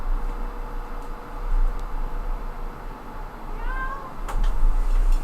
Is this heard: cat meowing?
yes